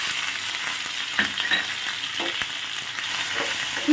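Dalia roasting in a pan with ginger and cumin powder, a steady close hissing sizzle over low heat with occasional soft stirring scrapes and no talking.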